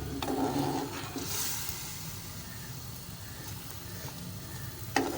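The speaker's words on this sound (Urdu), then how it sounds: "تاکہ گوشت کو اچھی طرح بھون بھی لیں اور پک بھی جائے" Mutton and bitter gourd frying in ghee, a steady broadband sizzle with occasional spoon scrapes and a sharp clink near the end, close and continuous with no talking.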